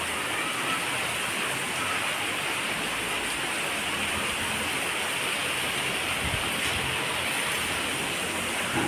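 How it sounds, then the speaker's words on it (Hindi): Heavy monsoon rain pours down steadily outside a home during a power outage, a loud, dense, unbroken hiss lasting throughout with no voices. "देखिए बारिश कितनी ज़्यादा हो रही है"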